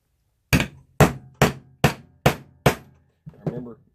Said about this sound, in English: So I'm going to go ahead and rivet that down.